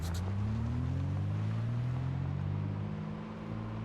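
A 1990s truck engine in a video game hums steadily at low pitch, rising slightly in tone then easing off toward the end, alone and moderately loud.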